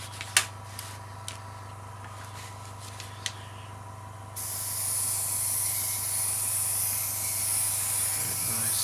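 An airbrush sprays paint onto a 1/72 Revell Halifax Mk.III model aircraft. A few faint clicks come first, then a steady, close hiss of spraying starts abruptly partway through and continues to the end over a low hum.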